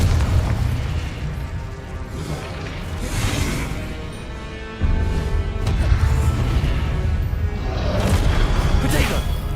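Booming spell explosions from the Confringo fire curse in the Hogwarts Legacy video game burst in a loud rolling sequence, with a sharp jump in intensity midway and layered whooshing effects.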